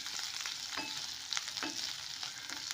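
Curry leaves and three finely chopped green chillies frying in oil for a Malvani-style potato bhaji, stirred through a faint, steady sizzle with occasional soft spoon scrapes.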